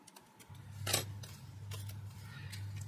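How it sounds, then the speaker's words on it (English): Scissors trim the edges of a paper gift card tag, giving a few faint snips and rustles, with one clearer cut near the start, over a steady low hum. "grab my scissors and then just square off or round off those two edges"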